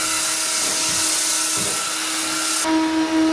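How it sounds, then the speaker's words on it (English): A vacuum runs on a concrete floor during mechanical concrete polishing, with a steady, loud whining roar and a constant hum, its pitch shifting slightly near the end. "Gotta get that vacuum quick."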